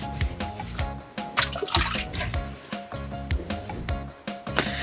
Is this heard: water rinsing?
yes